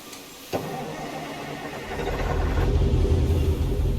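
A Mack Superliner truck with an E9 V8 diesel rated at 450 horsepower cranks with a sharp catch, then fires and settles into a deep, steadily building idle rumble, heard close with no talking.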